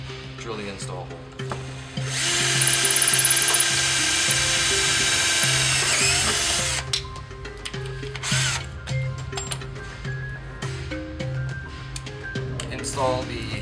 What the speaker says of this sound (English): drill the install hole.